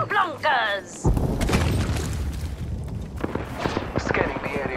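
Video game gunfire cracks and booms in bursts, loud and close, mixed with game sounds. A voice shouts over the shooting near the start.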